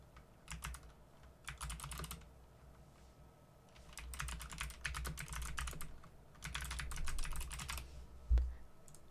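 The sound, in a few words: typing text on a computer keyboard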